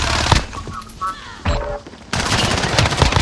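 Video game gunfire bursts out in rapid automatic volleys, loud and close, with a brief lull before a dense sustained stretch of shooting, a voice heard briefly.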